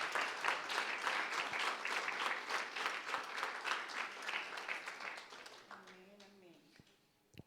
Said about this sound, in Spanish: Démosle ese aplauso a Él.